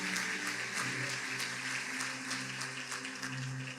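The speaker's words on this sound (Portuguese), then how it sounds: "Dê um forte aplauso ao Senhor" A church congregation applauds together, a dense, steady wash of many hands clapping with a loose rhythmic pulse that holds at full strength for several seconds.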